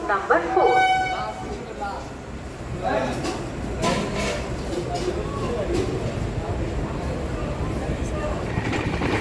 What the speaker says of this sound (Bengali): ট্রেন আমাদের আজিমগঞ্জ ছেড়ে দিচ্ছে